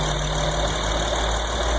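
A 3.5-liter engine in a 2011 Honda Ridgeline idles with a steady, even hum that holds unchanged and alone for under two seconds.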